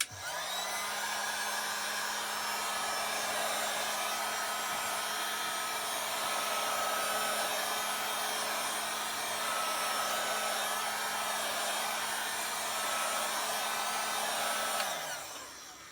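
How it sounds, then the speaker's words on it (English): A heat gun blows steadily for about fifteen seconds while warming a metal hood and plastic vinyl wrap, a loud continuous whooshing hum with no talk, switching on at the start and winding down at the end. "I'll just turn the heat gun on and I'm gonna heat up my metal"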